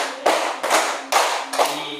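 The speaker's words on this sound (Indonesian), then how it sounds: "tepuk 5." A classroom of schoolchildren claps in counted unison, four distinct loud group claps spaced evenly about every half second, each ringing briefly before the next.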